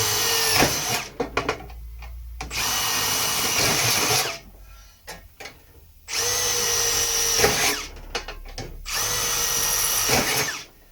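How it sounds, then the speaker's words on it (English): A power drill whines loudly in long bursts separated by short pauses, biting into stainless steel grizzly bars with rattling clatter as each bit works through. "We just drill the holes,"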